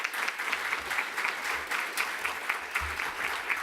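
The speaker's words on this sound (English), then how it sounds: "So a big cheer for all our speakers, please." An audience at an event in the Scottish Parliament cheers and applauds its speakers, steady dense clapping at close range that holds throughout without pause.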